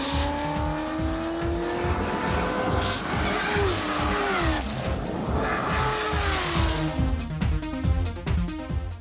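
A Chevrolet Corvette ZR1 with a Hennessey kit rated at 750 horsepower races on a track. Its engine revs loudly and rises through the gears, tires squeal, and the car roars steadily past.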